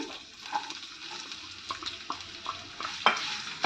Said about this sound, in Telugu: ఇప్పుడు ఆల్రెడీ చాప్ చేసి ఉంచుకున్న ఆనియన్స్ వేస్తున్నాను.